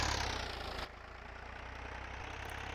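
A tractor engine in Farming Simulator 22 hums at a steady idle, a low continuous drone that drops slightly in level after a brief louder opening, with no voices.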